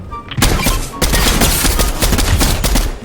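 Sustained automatic gunfire in Fortnite crackles loud and close, a brief pause after the opening burst giving way to a dense, continuous rattle of rapid shots.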